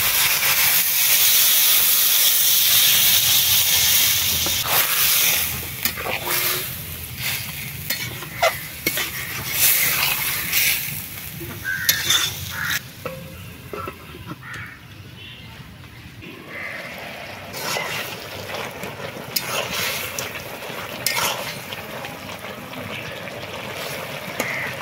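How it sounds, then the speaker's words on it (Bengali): Water goes into a hot pan of browned curry, starting with a loud burst of hissing, sizzling steam that gradually settles into softer bubbling and stirring scrapes, heard up close with no talking. "এবার জল দিয়ে দেবো।"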